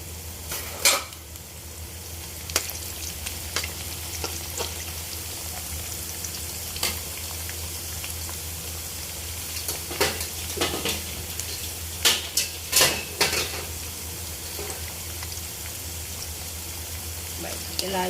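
Sliced onions sauté in a pan for sambal tumis with a soft, continuous frying hiss, while a utensil clinks and scrapes against the pan now and then.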